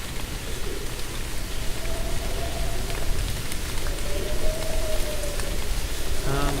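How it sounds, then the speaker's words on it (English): Steady rain falls in the video game The Moon Sliver, a loud, continuous hiss of drops washing over everything for the whole stretch, with a faint tonal hum drifting underneath. "Now it's raining on us."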